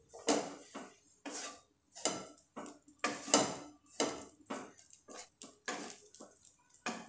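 Potatoes being stirred into poha in a pan: a spoon repeatedly scrapes and clinks against the metal in a steady, moderately quiet rhythm of about two strokes per second, with no voices.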